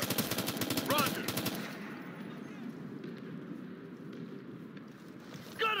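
Rapid automatic gunfire bursts loudly from a Ghost Recon Future Soldier firefight in Guerrilla mode, then drops to a low, rumbling battle ambience with scattered distant shots and a sharp burst at the very end.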